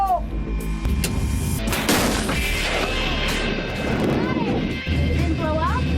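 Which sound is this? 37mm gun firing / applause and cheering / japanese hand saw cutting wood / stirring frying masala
37mm gun firing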